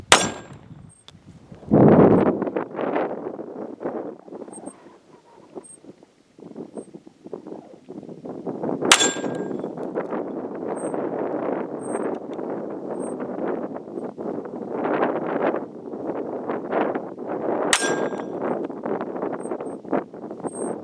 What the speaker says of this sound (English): Getting ready to shoot 22 Magnum Hornady Critical Defense 45 grain bullet FTX through a Kel-Tec PMR 30, distance about 6 or 7 yards.